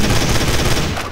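A rapid burst of close, loud gunfire from a Garry's Mod zombie survival match, shots crackling in quick succession for about a second before easing off.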